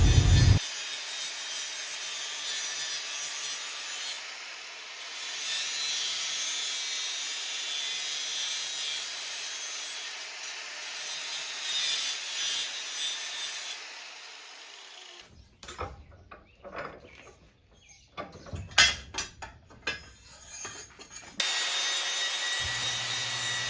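A file or grinder works a groove for a gate bolt in metal, steady raspy scraping for about fifteen seconds, then broken, uneven bursts of rubbing before the steady sound returns near the end; fairly quiet, no speech.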